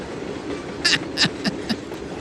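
A train passes in the Trainz 2022 simulator game, giving a rumbling rail bed under a few distinct metallic wheel clacks spaced a fraction of a second apart, fairly close, without speech.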